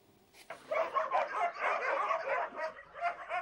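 Several dogs barking and yipping at an animal shelter, a dense overlapping chorus of barks that starts abruptly and continues steadily, fairly close, with no talk over it.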